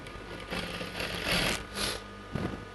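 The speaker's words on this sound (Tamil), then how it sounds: "இதை அப்படியே தைக்கலாம்" A sewing machine stitches a churidar pant in short close bursts of rapid needle chatter, speeding up and easing off several times with tiny pauses between runs.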